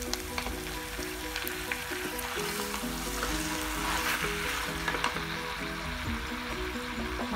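Half a kilo of mutton sizzles steadily in a pan of sautéed ginger and garlic, a continuous close frying crackle with occasional stirring clinks and no talking.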